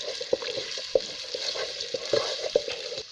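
Ginger paste is stirred in a hot pan, giving a steady sizzle broken by sharp clinks and scrapes from the spatula at an irregular rhythm.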